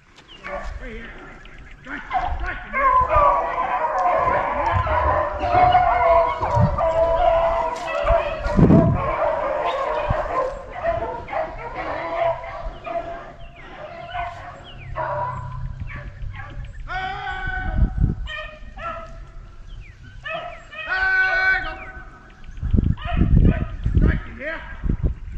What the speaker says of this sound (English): That dog John Proud finna strike him.